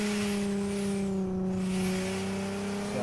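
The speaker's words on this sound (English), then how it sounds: "We can hear the turbo whistling, obviously." Car engine in the No Hesi driving game at night, a steady loud drone with a high turbo whistle sweeping up and down above it, running continuously with no talk.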